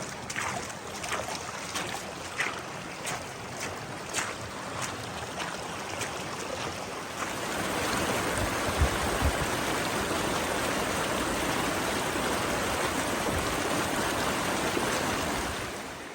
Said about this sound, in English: right after that second waterfall, another gushing spring